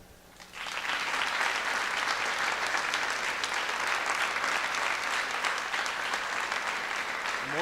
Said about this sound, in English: People clap before you even say anything.